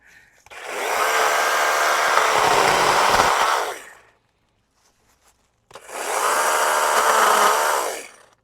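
A chainsaw cuts small branches during coppicing, two sustained, rasping bursts of about three seconds each separated by a short silence, close and fairly loud.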